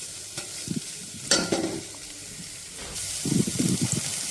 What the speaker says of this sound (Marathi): कांदाही लालसर होईपर्यंत परतून घ्यायचा आहे.